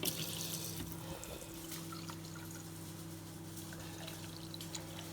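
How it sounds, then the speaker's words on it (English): Water runs quietly from a tap into a glass, topping up a small measure of supplement drink in a kitchen; a faint, steady splashing flow continues throughout without voices. "then I fill the rest of the glass up with water"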